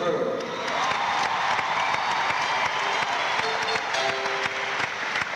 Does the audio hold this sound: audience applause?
yes